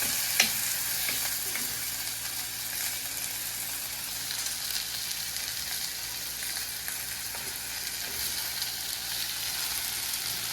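Ingredients for a spicy Sri Lankan prawn curry sauté in a clay pot, making a steady, moderate sizzle with occasional stirring scrapes and a sharp clink near the start.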